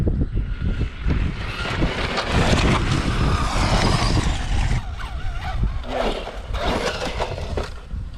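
A Traxxas Stampede 4x4 RC truck drives outdoors, its electric motor whining and tires rushing loudly over the ground, with heavy wind buffeting the microphone throughout.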